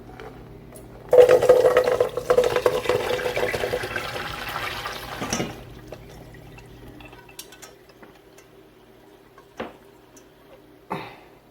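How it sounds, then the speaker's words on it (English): Hot rendered fat, cooked down for pemmican, pours into a strainer in a continuous liquid stream for about four seconds and then tapers off into a few faint drips and small clinks. "Let's pour that into that first strainer."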